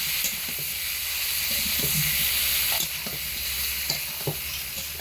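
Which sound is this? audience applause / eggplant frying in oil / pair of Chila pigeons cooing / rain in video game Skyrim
eggplant frying in oil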